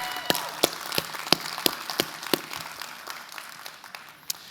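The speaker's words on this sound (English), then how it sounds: "How about a round of applause to our mayoral candidates?" Sparse, scattered claps from a small audience at a San Antonio mayoral candidates forum, a dozen or so distinct hand claps spaced irregularly and fairly faint, thinning out toward the end.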